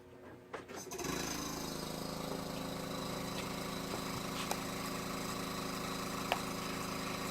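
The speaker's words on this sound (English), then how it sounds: "So fire up the compressor." Air compressor powering spray painting on a Defiant 28 boat build kicks on after about a second and then drones steadily and loudly, with a few faint clicks on top.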